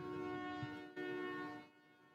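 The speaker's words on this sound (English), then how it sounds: "Hearing some honking going on out there." Vehicle horns honking outside, heard from indoors fairly close by: a sustained, steady blare that pauses briefly, resumes, then fades out.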